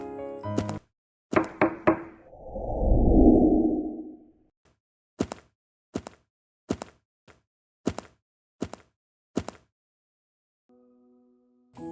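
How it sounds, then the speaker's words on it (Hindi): A series of sharp, close knocks on a door rings out after a whoosh, with about eight distinct raps spaced fairly evenly and clean silence between them. "तभी दरवाजे पे दस्तक होती है।"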